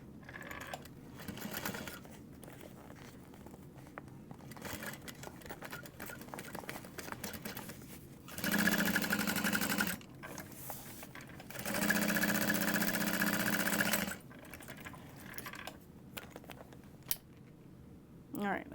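A sewing machine stitches a mini backpack closed, two loud, steady bursts of rapid mechanical whirring close by, separated by quieter handling noise and a speaking voice.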